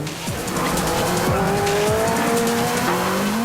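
A car brakes hard with loud, drawn-out tyre squeals over a roaring engine. The squealing sweeps up and down in pitch close by, and no one talks over it.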